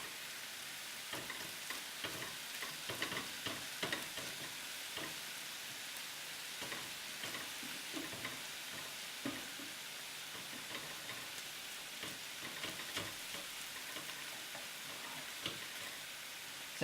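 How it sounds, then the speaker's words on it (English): Turkey and bacon frying together in a pan, a soft, continuous crackling sizzle with small pops and occasional clicks of pieces being turned. "I'm just going to flip all that turkey over so it cooks quickly on the other side."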